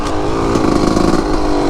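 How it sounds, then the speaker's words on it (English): Yamaha YZ250 two-stroke motocross bike engine revving hard and loud up close, a steady buzzing drone with rising pitch and brief surges across the whole moment. "This is a YZ250 two-stroke MX bike, and it's made for hauling ass"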